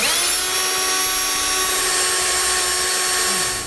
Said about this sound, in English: let's go through and drill our pilot hole for all 4 locations